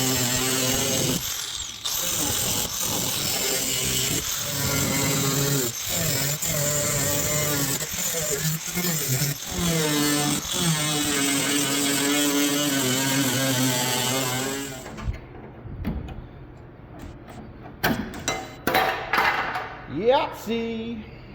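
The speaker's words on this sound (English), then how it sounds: "I'm going to start cutting that out with the trusty death wheel" A cut-off wheel grinds through rusted body metal on a 1966 Lincoln, a loud, steady whine lasting about fifteen seconds before it cuts out, leaving quieter, scattered workshop sounds.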